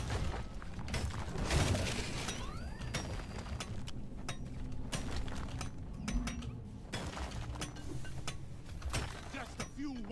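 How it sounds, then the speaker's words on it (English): A wrench whacks a scanner in the video game Deep Rock Galactic, giving clanking, ratcheting metallic hits scattered through a busy mix of machinery whirs and game noise, with voices in the background. "Just a few whacks with the wrench, and the scanner can do its thing."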